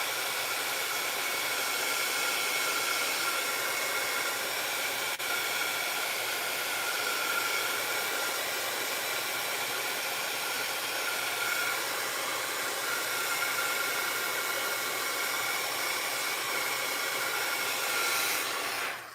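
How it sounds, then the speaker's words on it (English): A loud hair dryer drying paint on a craft project blows continuously with a steady whooshing roar, close by, before cutting off at the end. "Let me dry just a little bit. Dryer alert."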